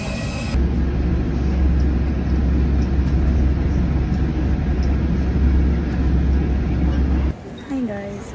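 Steady low rumbling cabin noise inside a moving bus in Manila, a constant engine and road drone filling the space, then cutting off near the end as a brief quieter stretch with a faint voice follows.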